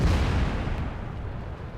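In the World of Tanks video game, a tank shell strikes the tank's turret with a heavy booming impact that rumbles and fades over less than two seconds, with no talk.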